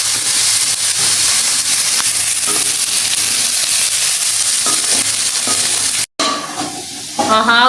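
Onions, carrot, capsicum and beans sauté in a pan with a steady loud sizzle and scraping stirs, briefly cut off near the end before frying resumes with a bright tonal chime.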